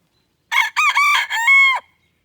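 A Sebright bantam rooster crows loudly once, a close, clear multi-part call standing alone against silence on a rainy day.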